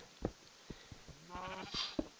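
Sheep in the game Minecraft giving a short, quiet bleat among a few soft clicks and taps.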